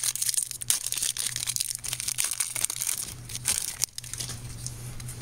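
A Journey into Nyx booster pack wrapper for Magic: The Gathering being torn open and crinkled, close and continuous crackling foil with sharp tearing bursts over a low background hum.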